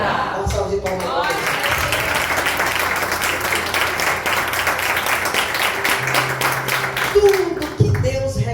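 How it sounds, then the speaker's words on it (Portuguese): Audience applause in a church service, a dense sustained clatter of clapping that swells and holds for several seconds, with a low hum beneath and a voice breaking in near the end. "Uma salva de palmas."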